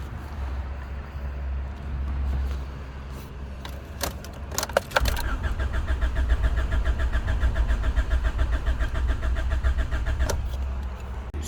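A car with an engine management fault cranks after a pause, the starter churning steadily for several seconds without the engine catching, close and fairly loud with no talking.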